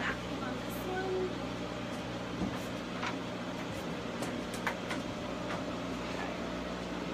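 A CoolSculpting vacuum applicator runs with a steady droning hum and hiss in a clinic room, constant throughout, while people talk quietly nearby and small clicks and taps occur.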